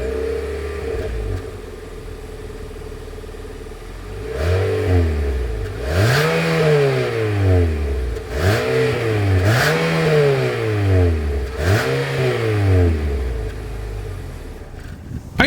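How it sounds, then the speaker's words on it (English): The exhaust of a 2025 Nissan Altima AWD sedan idles, then rises and falls through a series of sharp revs. Each rev swells loudly and drops back to a steady idle between blips. "As always, here is that exhaust clip."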